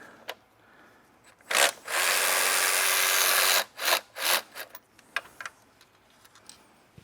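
Power tool whine working bolts off a BMW M62TU V8 engine: a short burst, then a sustained loud buzzing run of about two seconds, followed by a few brief choppy bursts and light clanking, close and without talk.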